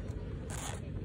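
Zipper on the case of Sony WH-1000XM4 midnight blue noise-canceling headphones, a single short close zip pull with a brighter rasp midway.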